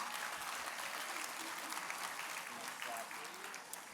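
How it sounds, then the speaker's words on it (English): A crowd at a high school entrepreneurship pitch night applauds coaches in a steady, thick burst of clapping that fades slightly toward the end, with some voices mixed in. "Let's give them a round of applause too,"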